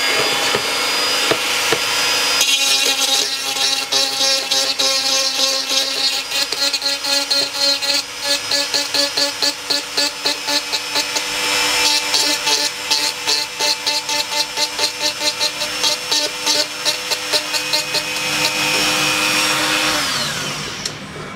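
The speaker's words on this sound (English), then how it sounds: "The bigger burr tool you use, by the way, the more bits of plastic fly in your face" A rotary burr tool grinds 3D printed plastic for a dog urn in a long, loud, steady high whine, pulsing slightly as the bit bites the workpiece, with no speech.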